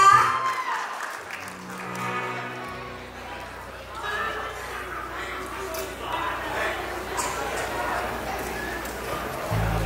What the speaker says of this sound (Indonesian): Tepuk tangan untuk Judika